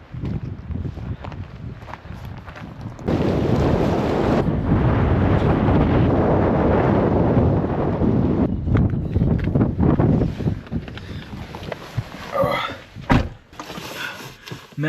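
Strong, cold wind in freezing temperatures roars and buffets the microphone in long, steady gusts, dropping briefly before rising again.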